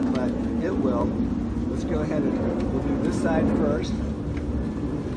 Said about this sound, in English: Sorry about the noise from the airplane.